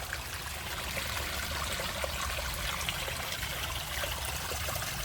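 Stream water trickles steadily through a forested mountain valley, a soft, even, continuous babble with no voices.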